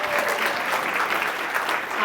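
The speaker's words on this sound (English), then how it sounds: "So big round of applause for them." A small audience at a chamber of commerce greeters' breakfast meeting claps in a dense, steady wash, moderately loud and close, with scattered individual claps standing out briefly.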